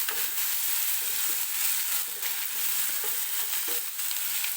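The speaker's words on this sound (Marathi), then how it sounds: "टोमॅटो सुद्धा मऊ होईपर्यंत व्यवस्थित तेलामध्ये भाजून घ्यायचा आहे." Tomatoes frying in oil in a pan, with a continuous sizzle and occasional stirring scrapes and no talking.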